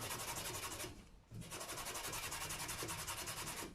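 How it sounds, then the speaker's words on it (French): A small paintbrush is scrubbed back and forth during a home craft session, giving a rapid, even rhythmic rubbing close by that stops for a moment and then resumes. No one speaks. "je vais renettoyer ma petite brosse"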